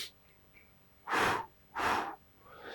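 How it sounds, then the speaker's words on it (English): Two deep, audible breaths drawn in during a walking qigong blowing exercise, each a broad rushing whoosh about half a second long, close to the mic, with a faint breathy trailing sound afterward. "So it's a normal in breath, the breath in."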